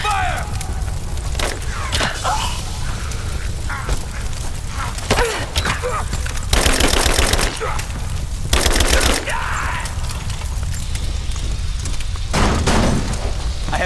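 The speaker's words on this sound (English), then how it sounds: "Covering fire!" Sustained covering gunfire in the video game Rise of the Tomb Raider: repeated bursts of automatic shots and booming blasts, loud and close, with clattering mechanical noises and shouted voices between volleys.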